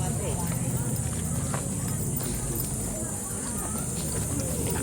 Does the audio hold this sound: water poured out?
no